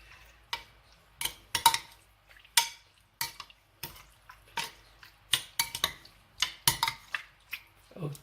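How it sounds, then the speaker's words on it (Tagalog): A chicken teriyaki marinade of rice wine and water being mixed in a bowl, with sharp, irregular clinks and taps of a utensil against the dish over quiet gaps, close and moderately loud. "Mix lang natin"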